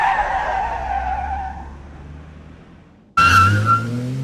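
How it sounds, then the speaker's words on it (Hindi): A car skids to a hard stop on the road, its tyres squealing in a loud, drawn-out smear that fades over about three seconds, followed by an abrupt cut to a new sound. "प्रशांत ने कार के ब्रेक जोर से दबाए।"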